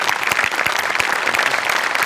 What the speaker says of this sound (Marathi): सचिन मोठ्यांसाठी भयंकर टाळ्या.